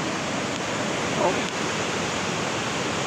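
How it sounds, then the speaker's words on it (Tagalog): Rushing high floodwater of the Apayao River heard from the LT Balag Bridge, a steady, loud, broadband roar that fills the whole stretch, with a brief exclamation from a man over it. "Laki ng Apayao River."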